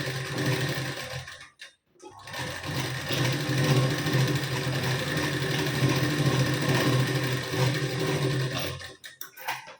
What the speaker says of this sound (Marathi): यावर आपण डबल शिलाई देऊन घेऊ पुन्हा